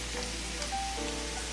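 Nutmeg seasoning drizzled over cooked carrots in a pot, a soft steady patter and faint sizzle close by, continuous and quiet with no talking.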